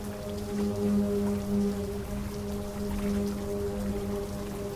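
Steady rain falls in the video game Lost Horizon, a continuous soft patter with a low ambient hum beneath it, fairly even in level throughout with no voices.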